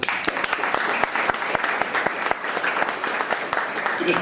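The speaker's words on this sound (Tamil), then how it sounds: "ஒரு கரகோஷம்" Sustained audience applause at an audio launch function held in Denmark, with sharp individual claps standing out in the steady, fairly even wash of clapping. Faint voices sit underneath.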